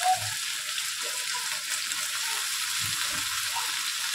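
Eggplant and potatoes fry in a pan for an Indian-style vegetable dish, a steady close sizzle with faint stirring knocks and no talking.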